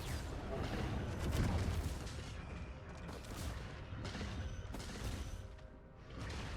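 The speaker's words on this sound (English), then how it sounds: "When the timer hits 0, the Void Reaver Death Explosion covers the whole stage." Huge Void Reaver death explosion in Risk of Rain 2 engulfing the whole stage, heavy rumbling booms and crashing bursts repeating in waves, loud and dense with game effects throughout.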